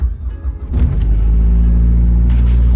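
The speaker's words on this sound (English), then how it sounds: "Oh, and the car cold starts." A 2008 Mazda Speed 3 with a swapped-in 2.5L block cold starts up close: a brief cranking whir catches into a loud engine roar, then settles into a steady, heavy idle rumble.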